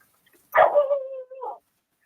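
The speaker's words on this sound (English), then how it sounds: "Did you hear Clara barking?" A single dog bark that trails into a drawn-out whine, close and clear against silence.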